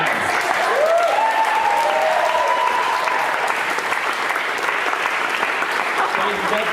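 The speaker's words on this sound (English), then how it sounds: "Can we get a round of applause for our dads?" Sustained audience applause and cheering for dads brought on stage at a small-town manhood seminar, dense and steady throughout with crowd noise and a voice briefly rising over it.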